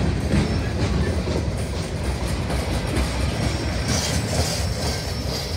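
A slow CSX freight train with two engines, hauling dumpster cars and a manifest, rolls past close by with continuous low rumbling and rhythmic wheel clatter on the rails, loud and steady throughout.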